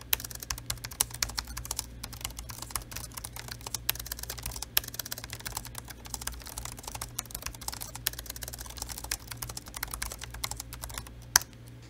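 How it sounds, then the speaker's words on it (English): Rapid, steady typing on the one-piece flat keyboard of a MAINGEAR Element 3 laptop, a dense stream of close, crisp clicks throughout with no talking. "There's a sound to this keyboard that it just can't get over."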